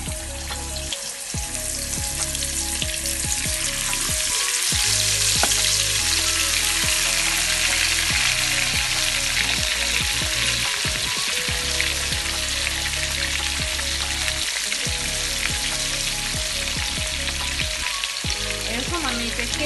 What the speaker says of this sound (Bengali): তো এখন আমি পরিমাণ মতো আপনারা সল্ট দিয়ে দেবেন। আমি এটাকে ফ্রাই করে নেব।